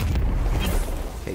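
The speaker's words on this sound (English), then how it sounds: "That stupid grenade was chasing me." A grenade detonates in Destiny 2, a loud low boom that rumbles on for over a second, with a brief mid-range burst near the end.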